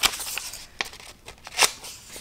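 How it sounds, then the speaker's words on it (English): Scissors cut through heat transfer vinyl for a puff and glitter sweatshirt, giving a series of close, crisp snips and clicks of uneven rhythm, the loudest near the end, with no talking. "So I'm just going to cut in here."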